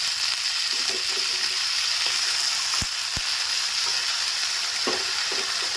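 Onion and potatoes fry in a pan with a steady, close hiss of sizzling oil, broken by a couple of sharp knocks and some soft stirring scrapes.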